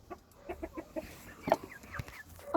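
Several hens cluck and murmur up close in a short run of soft, irregular calls, with a louder squawk near the middle and quiet gaps between.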